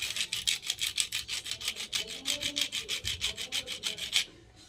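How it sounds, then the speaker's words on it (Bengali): A lotus seed's tip is rubbed back and forth in quick, even strokes, about twenty dry rasping scrapes in a steady rhythm, then it stops abruptly. "এটাকে আমরা ঘষবো, মুখটা ঘষে তারপরে জলে দিব।"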